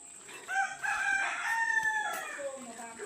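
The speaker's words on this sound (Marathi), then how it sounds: "कोंबडेच कोंबडे भांडणं करतात" Roosters crow nearby in a long drawn-out call, with clucking and scuffling fowl in the background of a rural home and a voice speaking faintly.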